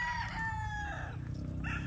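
A rooster crows loudly and close by, one long drawn-out call over a steady background of clucking chickens.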